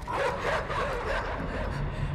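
Dogs in the video game Inside bark and yip in a steady, dense burst, loud and close, with a rough continuous background underneath.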